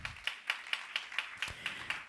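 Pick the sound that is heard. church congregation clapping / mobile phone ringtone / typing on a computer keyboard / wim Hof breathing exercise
church congregation clapping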